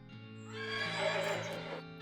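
Horses neigh and whinny in the Western comedy video game West of Loathing, a bright, wavering cry rising over a low sustained tone for about two seconds, moderately loud with no talking.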